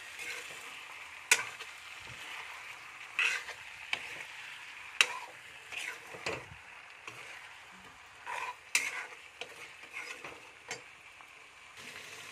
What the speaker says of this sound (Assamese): এয়া চাওক মছলাখিনি দি এতিয়া ধুনীয়াকৈ মাংসখিনি ভাজি ল'লোঁ।